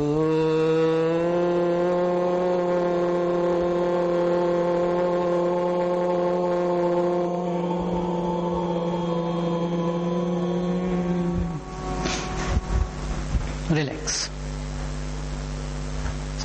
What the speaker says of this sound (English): This is the sound of Om.